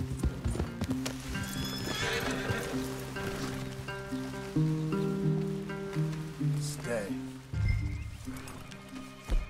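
Horses in Red Dead Redemption 2 clip-clopping steadily at close range, with a whinny, game music underneath and light rain.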